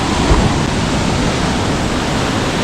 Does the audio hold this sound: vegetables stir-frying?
no